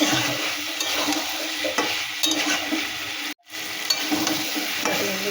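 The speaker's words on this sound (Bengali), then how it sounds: "ভালো করে মশলার সঙ্গে কষিয়ে নিয়েছি আলুগুলো আর মটরশুঁটিটা।" Potatoes and peas sauté with spices in a pan for aloo dum, a dense, steady sizzle with light stirring scrapes, briefly cut off by a sudden gap before resuming, heard up close with no talk.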